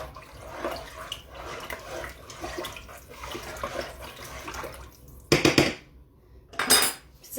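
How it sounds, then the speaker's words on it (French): Ingredients for chicken noodle soup mixed in a plastic Tupperware container, a soft swishing and clinking of a utensil against the plastic, ending in two louder bursts of rattling. "On mélange le tout."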